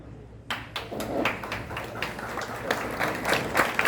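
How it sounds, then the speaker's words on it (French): A standing audience at an eloquence competition final claps, starting sparse with a few distinct claps then building into fuller, uneven applause at moderate volume. "je vous demande en prière de bien vouloir vous mettre debout avec les mains libres pour applaudir les 100 ans de Jacques-Stéphane Alexis"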